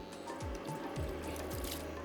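Water is poured into a cooking pot of jhangora (barnyard millet) biryani, with a few short gurgling splashes and trickles close by over a steady background hiss.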